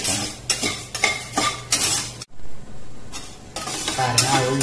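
Flattened rice (aval) frying in a pan while a spoon stirs it, giving bursts of sizzling and scraping with metal clinks against the pan, close up, with a short pause partway through.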